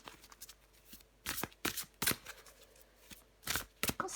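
Tarot cards are shuffled and drawn by hand in a quiet room, with several crisp bursts of riffling and slapping cards in irregular clusters and no talk.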